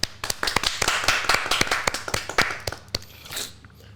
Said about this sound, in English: Round of applause for Skateboard P.